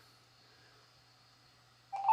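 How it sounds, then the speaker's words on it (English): A phone number being dialed on a mobile phone to join a Zoom meeting: a quiet steady line gives way to a brief, louder keypad tone near the end. "So here on my phone, I'm going to dial this phone number."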